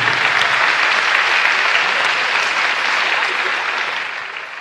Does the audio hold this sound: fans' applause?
yes